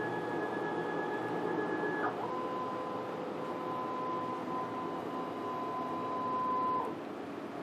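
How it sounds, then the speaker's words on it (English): A Focus Inc. Alpha-Jet UV flatbed printer with 14 print heads runs a vertical calibration print, giving a steady mechanical hum with sustained whining tones that step down in pitch partway through, close and continuous without talk. "then we print the vertical calibration again to check"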